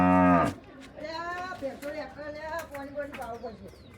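A buffalo lows in a long, loud, deep call at the start, followed by higher bird-like coos and chatter in a rural farmyard setting.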